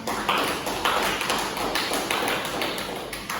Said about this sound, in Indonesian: Kita kasih aplaus untuk yang pertama.